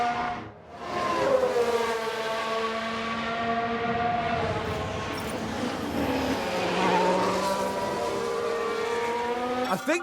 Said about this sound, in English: I think there's been contact on the track.